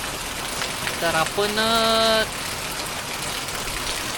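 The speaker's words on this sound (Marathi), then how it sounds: "खूप पाऊस चालू आहे, तुम्ही बघू शकता." Heavy monsoon rain pouring in Karmale village, a steady, dense hiss running the whole time, while someone briefly speaks over it near the middle.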